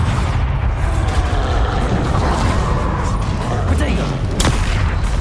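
Bombarda spell blasts and magical combat in Hogwarts Legacy: dense, continuous rumbling booms and crackling impacts at high volume, with a sharp burst near the end.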